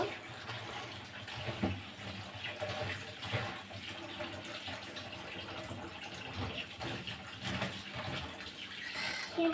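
A kitchen tap runs in a faint, steady stream while tomatoes are washed for cooking, a soft continuous splashing with no talking.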